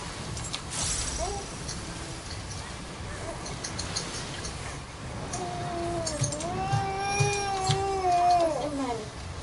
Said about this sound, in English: Did the cat bother you?